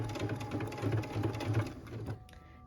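Sewing machine stitching through a pieced, quilted stocking: a steady, close, rapid mechanical whir with dense needle pulses that slows and stops near the end.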